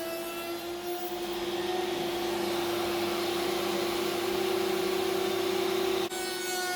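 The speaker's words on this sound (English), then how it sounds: "I'm routing out the shape for the holder pieces, and I'm doing that on my router table with a rabbiting bit" A router table fitted with a rabbeting bit cuts wood, giving a loud, steady motor whine with a strong constant tone that runs for about six seconds, then drops in pitch as the cut ends, with no talking.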